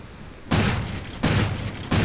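Shotgun slug rounds fire in Call of Duty Ghosts, three loud, booming blasts spaced evenly under a second apart, each with a short decaying tail.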